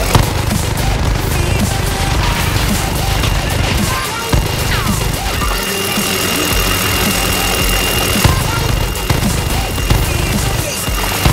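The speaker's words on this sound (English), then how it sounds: "I told you I heard a minigun!" Video game helicopter's side-mounted minigun firing, a dense continuous rattle of automatic fire over a steady engine drone, loud and close, with brief breaks in the burst.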